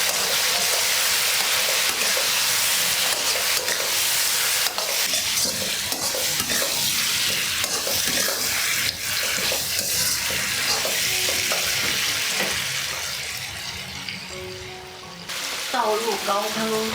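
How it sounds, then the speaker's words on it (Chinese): Pork ribs and konjac tofu stir-fried in a wok with oyster sauce, soy sauce and white pepper, giving a steady loud sizzle with a continuous scraping, tossing rhythm, fading slightly near the end. "翻炒。"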